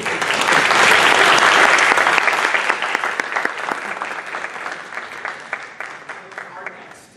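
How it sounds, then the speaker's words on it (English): Applause at a city council candidates' forum, a full burst of clapping that peaks early, then thins into scattered, individual claps as it fades out. "please join me in a round of applause for our three wonderful."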